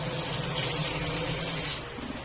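Strong, steady rush of water from a tap in a newly built house in Davao, a constant broadband hiss that drops away abruptly near the end.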